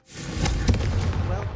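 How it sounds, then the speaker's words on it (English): A Confringo fire spell cast in the Hogwarts Legacy video game, a sudden fiery burst with a sharp crackling snap in the middle, set against a steady low rumble and background game noise. "a Confringo cast travels a bit farther than that of a spell like"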